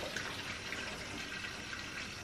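Water running steadily into a Safeguard milk pasteurizer and pouring out of its drain hose, a continuous close, even rush and splash with no pauses.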